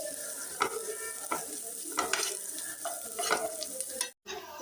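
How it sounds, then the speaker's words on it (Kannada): Chilli frying in hot oil in a pan for street-style egg rice, a bright continuous sizzle with regular scraping stir strokes about every half second, close and alone. "ಸ್ವಲ್ಪ ಆಯಿಲ್ ಫ್ರೈ ಮಾಡ್ಕೊಳ್ಳಿ. ಈಗ ಚಿಲ್ಲಿ ಆ್ಯಡ್ ಮಾಡ್ಕೊಳ್ಳಿ."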